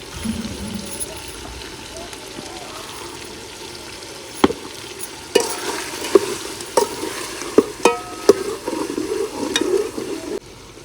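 Masala with red chilli powder frying in a pan, a steady sizzle under stirring, with sharper clinks and scrapes of the spoon against the pan toward the end.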